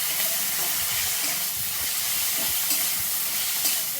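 A masala of cumin paste and green chili paste sizzles and hisses steadily in a frying pan, loud and constant with no pauses.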